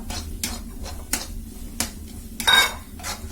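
A spoon stirring green peas masala in a pan, giving repeated sharp metallic scrapes and clinks in a steady rhythm, close and fairly loud, with one louder clatter near the end and no talking.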